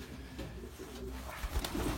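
Pigeons coo in a racing-pigeon loft, a low continuous burbling that stays close and steady throughout, with a few slightly louder swells near the end.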